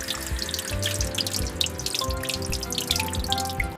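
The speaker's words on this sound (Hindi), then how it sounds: "अब ये देखो बच्चों, टैप। इसे हिंदी में नल कहते हैं। इससे पानी निकलता है।" Water runs from a tap into a bathroom wash basin, a steady close splashing stream with faint dripping, continuous for a few seconds with no voices.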